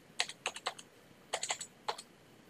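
Fingers type on a computer keyboard to enter an account number, three quick clusters of close, crisp key clicks separated by short pauses in a quiet room.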